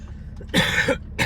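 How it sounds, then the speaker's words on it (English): Harsh coughing bursts from someone just recovering from flu, one long rasping cough followed by a shorter one, close and fairly loud over a quiet background hum. "I'm sorry that I'm coughing."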